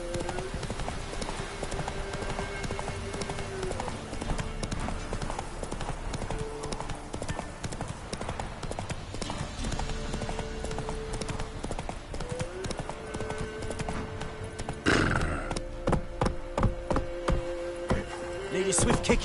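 A horse's hooves clip-clopping in steady rhythm in The Witcher 3 on PS5, with a game soundtrack and some talk over it, and a louder clattering burst near the end.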